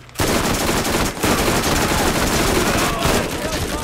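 Rapid, continuous SMG gunfire in the Borderlands shooter rattles loud and close, broken by one brief pause.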